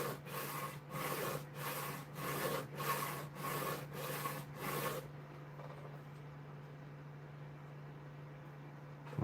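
A blade stroked back and forth on a 4,000 grit Japanese whetstone, six rhythmic rasping passes close by over a steady low hum, then only the hum remains.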